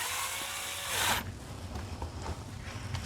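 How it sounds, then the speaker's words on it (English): An electric screwdriver with a T20 bit unscrews the trim bezel screws on a Ford Bronco steering wheel. A close whirring motor runs and then stops abruptly, followed by faint handling clicks and rustles. "I'm just going to use an electric screwdriver with a T20 bit to go ahead and unscrew that"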